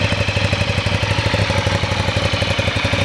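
A V-twin motorcycle engine with an aftermarket exhaust replacing the twin-port standard one, idling close by with a loud, lumpy, evenly pulsing beat throughout, no voices.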